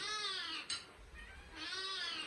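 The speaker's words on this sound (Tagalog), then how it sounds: "sorry sa background ng umiiyak na pusa" A stray cat cries in the background with two drawn-out, wavering meows separated by a short pause, quiet and somewhat distant.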